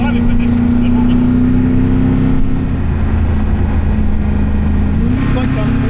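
Engine of a 1,360hp Koenigsegg Agera N hypercar heard from the cabin, a loud, steady droning note held near 5,000 RPM that dips slightly and then climbs again.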